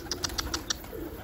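Pigeons give a quick series of soft, evenly spaced chirps or wing-flutters, about five short bursts in rapid rhythm, faint against a quiet outdoor background.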